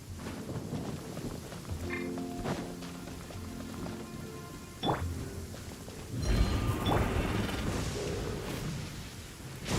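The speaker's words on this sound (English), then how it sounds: "Please stay indoors until the storm passes." Thunderstorm with steady rain in Genshin Impact, a constant hiss of rainfall with low rumbling thunder and a heavier crash swelling midway, alongside faint tonal game sounds, no talk.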